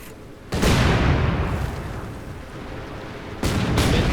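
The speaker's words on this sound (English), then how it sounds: "Light artillery barrage going down." A light artillery barrage in the World War II strategy game Company of Heroes 2, heavy booming blasts that hit abruptly and roll on in a loud, sustained rumble before another impact lands near the end, with no voices.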